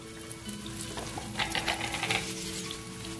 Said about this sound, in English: then stir for 2 to 3 minutes